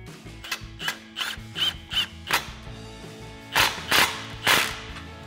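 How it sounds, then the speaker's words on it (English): A ratchet with a 15 mm socket snugging an exhaust clamp on a RAM 1500 dual exhaust install, a series of sharp metallic clicks in uneven bursts, close and loud with no speech. "we'll go ahead and snug it up with our 15 mil socket"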